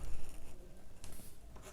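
A pencil drawing fur scratches across paper in short strokes, with a few brisk bursts of scratching heard close and fairly loud.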